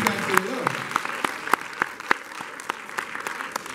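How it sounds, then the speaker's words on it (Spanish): A church congregation claps in a lively burst during a bilingual Spanish-English sermon, with distinct individual claps layered over the steady applause and a brief voice near the start. "Dele un aplauso al Señor."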